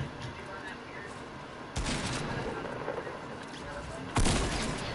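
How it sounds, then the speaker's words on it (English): Sniper rifle shots in the Fortnite battle royale video game, two sharp loud cracks a few seconds apart over steady game ambience, with players talking in between. "I lit him up with my sniper."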